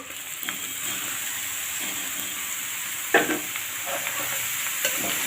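Food fries with a constant sizzling hiss while a utensil stirs and scrapes the pan, with a sharper clack near the middle. No speech.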